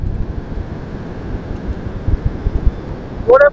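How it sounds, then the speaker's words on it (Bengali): Strong cold wind rushes past a car on a road trip across a flyover toward Kolkata, a loud, gusty low roar with buffeting, and a brief voice cuts in near the end. "ঠান্ডা ঠান্ডা হাওয়া আসছে, হাওয়ার জোর খুব বেশি।"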